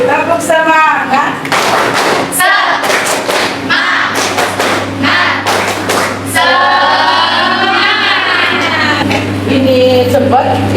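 Adults in a teachers' coaching and supervision session repeat the 'tepuk semangat' clap, with loud, close groups of synchronized claps in a set rhythm. Chanting voices and lively talk surround the clapping.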